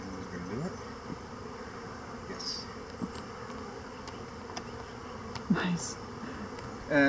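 Honeybees buzz steadily inside a hive during a sugar shake varroa mite check, a constant close drone with occasional faint clicks and bumps.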